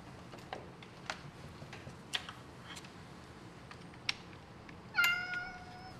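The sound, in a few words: cat meowing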